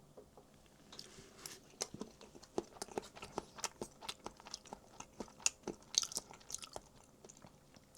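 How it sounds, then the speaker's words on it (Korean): Raw yellowtail sashimi being chewed close to the mic, with soft, wet, rhythmic bites and squishes repeating quietly at a steady pace. "먹어보겠습니다. 방어."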